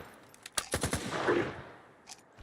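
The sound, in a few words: gunfire in video game S.T.A.L.K.E.R. 2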